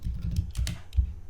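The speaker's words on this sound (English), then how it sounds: "I'm just going to type Samsung" A short run of keystrokes on a computer keyboard, several crisp taps in an uneven rhythm, close and fairly clear with no talking.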